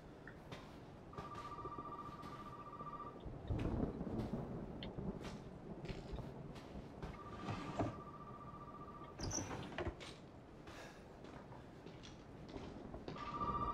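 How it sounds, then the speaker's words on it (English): A telephone rings in the Resident Evil 7 video game, steady electronic trills sounding in three separate bursts amid a dark rumbling ambience, with occasional thuds and no talking. "Is the phone ringing?"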